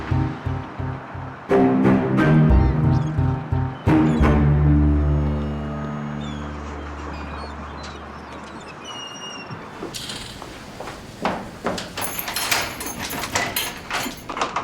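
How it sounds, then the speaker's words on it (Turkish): A door is locked in a Turkish crime drama scene, with a few sharp mechanical clicks of the lock heard over a low, sustained musical drone and busy background ambience. "Niye kilitliyorsunuz şu kapıyı?"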